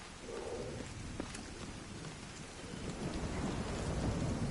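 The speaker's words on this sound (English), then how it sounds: "Did this always have like a weather system in it? You know, it rains." Steady rain with distant thunder rumbles from the weather system in the video game The Division 2, a continuous broadband downpour that swells slightly toward the end, with no talking.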